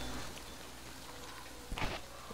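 Rain in Metro Exodus, a faint steady patter that fills the background. A brief louder splash or thud breaks in near the end. No one speaks.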